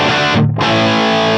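Electric guitar played through a Line 6 Helix with a tube screamer distortion pedal, a loud sustained distorted chord that briefly cuts and then rings again, buzzy and harmonically rich, alone with no talk.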